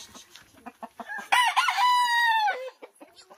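A few soft clucks lead into one loud, close rooster crow that rises and holds before trailing off.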